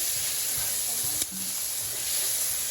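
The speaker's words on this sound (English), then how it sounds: "the garlic and onions have been cooking for about 3 minutes" Garlic and onions sizzle steadily in a pan as they cook, a broad continuous frying hiss with one brief clink partway through and no voices.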